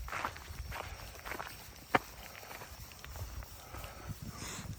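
A pregnant goat walks on a farm, its hooves giving soft, irregular footstep thuds at close range over steady outdoor background noise, with one sharper knock partway through.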